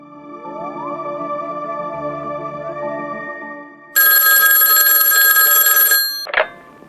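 A telephone rings down the line at a US Air Force base: a steady electronic ring tone rising in pitch, then a loud, bright bell-like ringing burst for about two seconds, ending with a short click.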